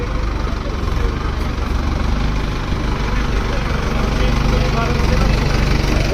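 A steady, low tractor diesel engine rumbles at idle in a parking area in Amritsar throughout, close and continuous, with faint voices underneath.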